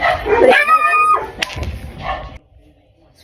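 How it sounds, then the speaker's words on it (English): A dog barks and yips in the background during indoor talk, a few short sharp calls mixed in with the speaking voice before things go quiet. "I apologize for the dog barking in the background."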